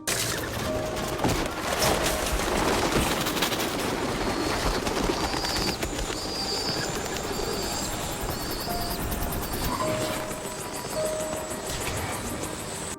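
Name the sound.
pigeons in a film scene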